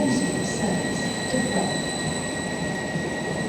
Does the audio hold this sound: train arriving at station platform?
yes